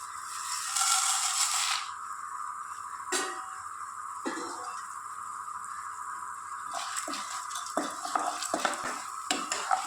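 Spices dry-roasting in a kadai with a little oil: a bright sizzling rush early on, then quieter roasting broken by clattering scrapes and metallic knocks of the stirring spoon, growing busier toward the end.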